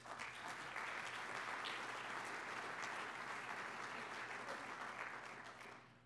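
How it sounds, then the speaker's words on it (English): Steady applause from an audience at a city's state of the city address, a dense even wash of clapping throughout that tapers off at the end, fairly distant and quiet. "That certainly deserves a round of applause."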